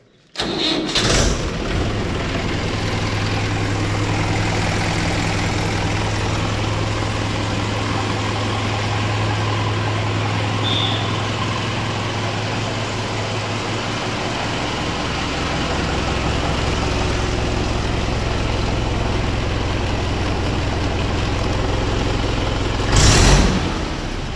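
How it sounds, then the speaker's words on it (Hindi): A four-cylinder Mahindra 575 DI tractor engine cranks and starts, then idles steadily with a deep, even rumble close up for about twenty seconds before a brief click. "बेहतरीन शानदार आवाज़ मिलेगी आपको चार सिलेंडर ट्रैक्टर की आवाज़"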